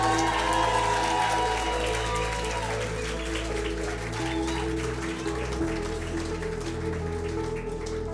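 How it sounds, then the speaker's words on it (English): Wedding guests applaud the bride at an evening reception, a dense, steady wash of clapping that holds for several seconds over a low background hum. "give her a quick round of applause"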